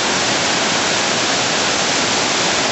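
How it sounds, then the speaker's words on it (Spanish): Fervenza do Rexedoiro, a waterfall in Galicia, roars as a steady, loud, unbroken broadband rush of falling water overgrown with brush, filling the whole stretch with no voices. "está cayendo un agua, está cayendo todo el agua, va por ahí abajo"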